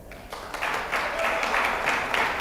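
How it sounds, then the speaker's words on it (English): Audience at a journalism awards ceremony applauds for a second-place winner, clapping building from quiet to a steady, moderately loud patter of many hands. "Clap for Roy"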